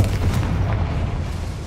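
In the video game Hogwarts Legacy, a Confringo fire spell blasts with a short, booming explosion and rumbling tail, loud and close, heard alone for under two seconds.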